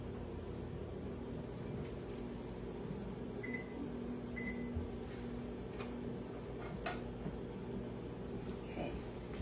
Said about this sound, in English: we're gonna put that back in the microwave